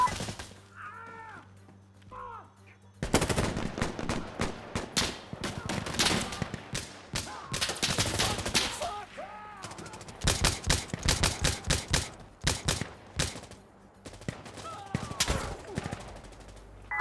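Rapid bursts of automatic gunfire and single shots crack through a multiplayer firefight in Insurgency: Sandstorm, some close and loud, others more distant, with brief pauses between volleys.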